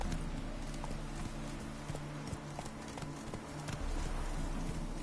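Hooves of the horse Roach in the video game The Witcher 3, a steady clip-clop trotting rhythm up close over a low ambient bed, with faint speech in the background.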